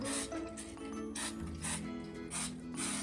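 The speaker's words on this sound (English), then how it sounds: "take some nonstick spray and just gently spray the top" Several short hissing sprays of nonstick cooking spray onto a muffin pan in quick bursts, close by, with faint rubbing and clinking between them; no talking.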